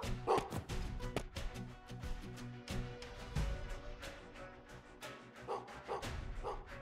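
A dog barks repeatedly in short, sharp bursts within Gestalt: Steam & Cinder, the yips mixed with game sounds at moderate loudness, with no talking.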